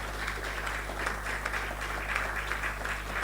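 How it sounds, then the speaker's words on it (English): A conference audience applauds continuously, the clapping a steady, mid-distance patter of many hands that holds even throughout, with no one speaking over it. "A warm round of applause, please, everyone."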